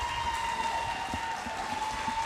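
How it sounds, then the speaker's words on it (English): Badminton fans applauding after the final point of a Malaysia Open 2025 match, a steady wash of indoor crowd clapping that stays even throughout under a constant faint tone. "you hear the fans applauding"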